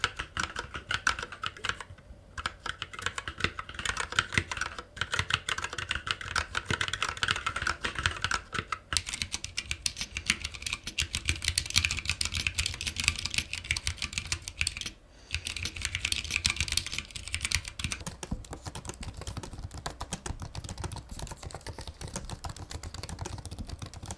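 Typing on a Moonlander split keyboard and a 2016 MacBook Pro butterfly keyboard, fast, continuous clicking and clacking keystrokes, close and fairly loud with brief pauses, no voices.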